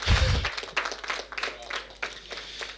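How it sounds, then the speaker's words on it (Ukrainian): A crowd at a stand-up comedy special in Rivne applauds, a dense, steady wash of clapping with voices carrying over it. "Поаплодуйте, тут на цьому місці ваші оплески."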